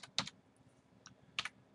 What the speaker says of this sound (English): model number, typing, and hitting Tab